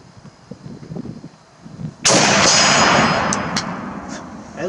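A Czech Vz 54 sniper rifle fires one loud, sharp shot that echoes out over an outdoor range, aimed at a metal target at 100 yards, with faint ringing ticks after it and low murmuring before.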